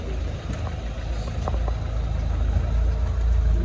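A 1999 Opel Astra G sits idling at a car market in Khujand, its engine giving a steady low rumble, with faint clicks and background noise around it.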